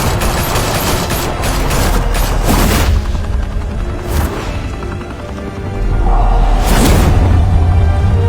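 Heavy gunfire in Batman: Telltale pours out in a continuous, loud barrage of overlapping shots and booms, with a few sharper blasts standing out over the roar.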